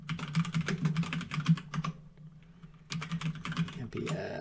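Someone types a name on a computer keyboard, with dense, rapid key clicks in two bursts separated by a short pause of about a second, close and fairly quiet.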